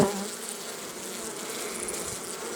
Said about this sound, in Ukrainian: Бджолки літають за медом